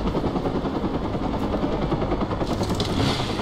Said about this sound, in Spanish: Now what about these helicopters?